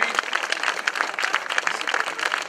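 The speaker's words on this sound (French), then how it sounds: "merci d'avoir des applaudissements fournis pour Olivier Legac." Spectators at the 2014 Kerlouan-Ménéham cyclo-cross event applaud a rider, a continuous, fairly busy wash of clapping from a modest crowd that holds steady for the whole stretch.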